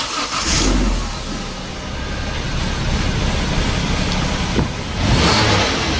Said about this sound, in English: Okay, so now I'm just gonna get the car running.